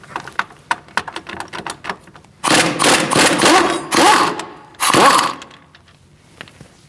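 Removing the top bolt of a brake caliper on a 2002-2006 Toyota Camry: light ticks and taps, then loud bursts of rapid rattling from an impact tool, close up with no talk.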